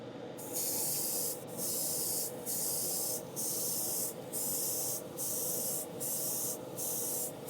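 Spray paint hisses onto a PCB in about eight short, evenly spaced bursts, each a steady loud hiss separated by brief gaps, close up with no talk.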